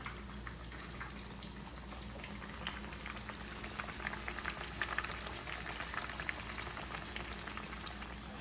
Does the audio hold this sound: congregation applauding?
no